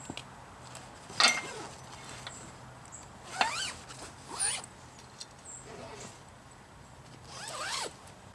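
Several short zipper pulls at close range as a duffel bag for a hammock stand is opened all the way to the ends, quick rasping bursts separated by pauses in a quiet room.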